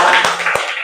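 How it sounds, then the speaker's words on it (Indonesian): A few sharp hand claps in a classroom after a group presentation, three distinct slaps in under a second, close and loud over a short ringing room tail. "Tepuk tangan buat teman kelompok"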